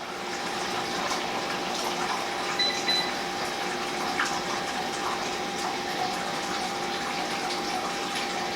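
Wort draining from the grain bed of an Anvil Foundry electric brewer while brewing a hazy IPA, a steady, even rush of trickling liquid with a faint pump-like hum, continuous and close, no talking.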